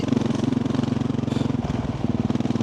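A 450 dirt bike engine runs with a loud, steady, throbbing thump of rapid firing pulses, close up, with a brief dip in rhythm midway before settling back, and no talking.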